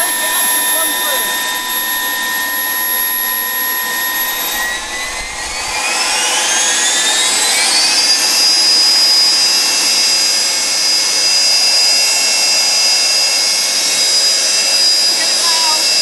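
A Wren model jet turbine engine spools up from idle to higher power. Its whining tones rise steeply in pitch over a couple of seconds, then hold at a loud, steady high-pitched scream over a roaring rush, with no voices.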